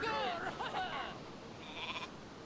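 Sheep bleating in the video game Northgard, a couple of wavering bleats up close, the second shorter and higher, over a faint game ambience.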